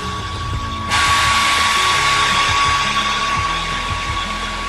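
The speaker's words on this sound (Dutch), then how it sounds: "Ik heb mijn föhn heb ik al in stopcontact gedaan." A hair dryer switches on abruptly and blows with a steady, loud whooshing hiss and thin motor whine, used to warm and melt candle wax, continuing without voices.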